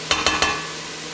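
Chopped onions sizzle steadily in a pot as they cook down for homemade chili, with three quick stirring scrapes near the start before the frying hiss carries on alone.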